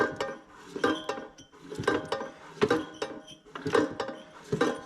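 A Kohler K Series engine from a Cub Cadet 102, pulley still attached, turned over by hand in a workshop: rhythmic mechanical clanking and metallic clinks in repeated cycles about once a second, close and moderately loud.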